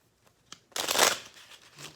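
A single brisk riffle of cards, preceded by a couple of soft taps, heard up close with no talking.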